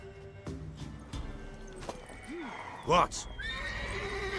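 A horse in The Witcher 3 whinnies with a rising, wavering neigh, following steady clip-clop hoofbeats on hard ground; a brief spoken word and game background sounds run alongside.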